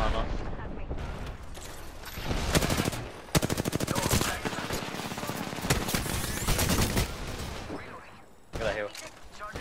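Rapid bursts of automatic gunfire and sharp single shots crackle through an Apex Legends ranked match, loud and dense with brief gaps, while players talk over the shooting.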